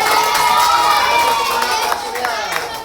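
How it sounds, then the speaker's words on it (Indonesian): A classroom of children cheers and claps for a classmate called to the front during a lesson on animal life cycles, a loud, dense burst of shouting and clapping that fades somewhat toward the end. "tepuk tangan buat Surya dulu."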